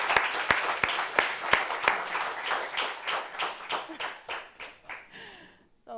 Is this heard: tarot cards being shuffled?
no